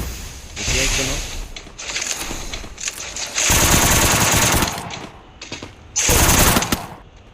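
Gunfire in the Free Fire video game, long loud machine-gun bursts with shorter volleys in between, close and dense, with a voice talking over parts of it.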